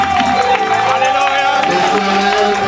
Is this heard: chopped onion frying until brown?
no